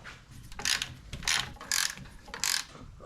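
Four short bursts of clicking ratchet on a Torx bolt at a Harley-Davidson Dyna battery box. The bursts are close and fairly quiet, with brief pauses between strokes and no talking.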